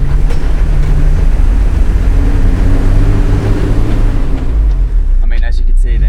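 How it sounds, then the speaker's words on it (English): A 4WD engine with the rear diff lock engaged holds a loud, steady low drone as both tyres spin on a climb, close and unbroken, easing off near the end as a voice briefly talks. "as you can see then, both tyres spun and we got a lot closer to getting up"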